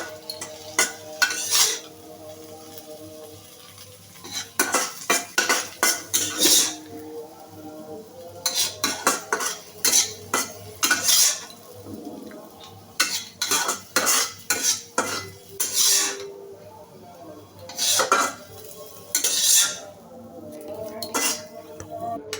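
Metal utensil scraping and clinking against a pan as fried food in oil is lifted out, with a soft sizzle beneath; the clatter comes in quick irregular bursts separated by short pauses, close and fairly loud.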